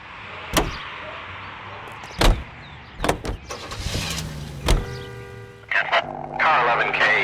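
A car in L.A. Noire with doors thumping shut and clunking, then the engine catches and pulls away, rising to a steady drone with the whirr of motion at the end; a voice talks between the knocks.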